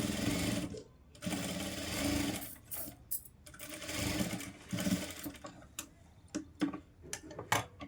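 A sewing machine stitches the sleeves of a readymade top in close, loud bursts, whirring runs broken by pauses, then short rapid stop-start stitches near the end.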